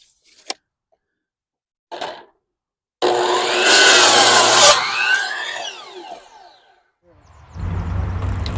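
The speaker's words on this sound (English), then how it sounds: "Here I'm just about to cut the piece of plywood that's going to go in between the 2x6s I just cut." A saw cuts through a piece of plywood: a couple of sharp knocks, then a loud, rasping burst of cutting lasting under two seconds as the blade winds down, followed by other workshop noise.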